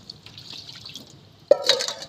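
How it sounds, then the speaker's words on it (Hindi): Water is splashed onto a dirty stove during cleaning, a sudden trickling pour and drip arriving after a quiet stretch, close and fairly soft. "मेरा देखना इसके मैं ऊपर पानी एक दफ़ा डाल के चेक करूँ"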